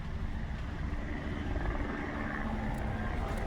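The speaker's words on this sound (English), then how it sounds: "This police helicopter has been following me everywhere." A police helicopter hovers overhead, its rotor giving a steady, fairly faint throbbing drone with no talk.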